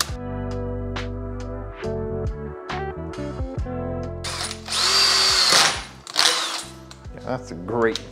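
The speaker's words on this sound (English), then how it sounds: "So what I'm doing now is drilling just a tiny hole up here" A power drill whirs in short bursts, then grinds louder for a stretch as the bit bites in, drilling a tiny hole while installing an 8 kW Vevor diesel heater, with a nearby voice talking over it.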